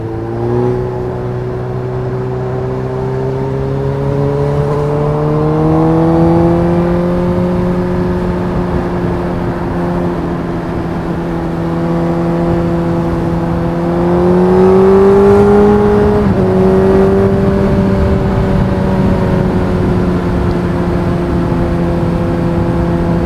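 A motorcycle cruises along a road in third gear, its engine droning steadily and loud throughout, with the pitch rising and settling a couple of times as the throttle shifts.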